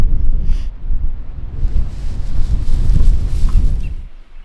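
Steady wind gusts across open farmland with patches of bush, roaring and buffeting the microphone in uneven surges with no voices.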